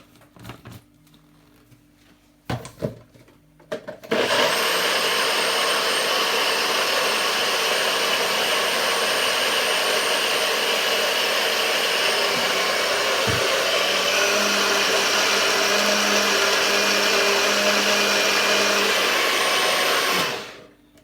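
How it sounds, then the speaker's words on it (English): A blender whirs at high speed mixing a honey weight-loss drink, starting after a few clicks and handling noises and then running in a loud, steady roar for about sixteen seconds before stopping. "Now we're gonna blend this again."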